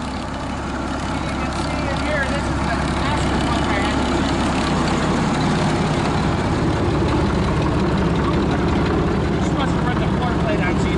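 An International TD-18 crawler's engine runs at a loud, steady, rumbling idle throughout, close by, with people talking over it.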